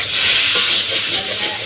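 Fish frying in a pan with onion, garlic and green chilli, a loud, steady broadband sizzle that stays close and continuous throughout with no talk over it.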